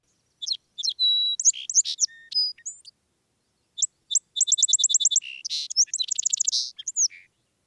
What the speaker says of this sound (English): song sparrows are loud, tireless singers